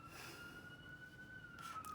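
An ambulance siren passes outside, heard as a faint, distant, steady wailing tone through a quiet room with no talking.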